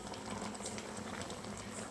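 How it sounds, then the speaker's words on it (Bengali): Sugar syrup boiling for mango murabba, a steady faint bubbling and simmering that runs continuously with no talk over it. "আমি চিনি রসে ফোটাচ্ছি।"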